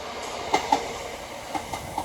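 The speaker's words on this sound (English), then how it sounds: "it's a relatively short road for that freight train." A short freight train rolls through Preston station, with rhythmic clicks of wheels over rail joints over a steady rumbling hiss, heard at moderate distance and without talk.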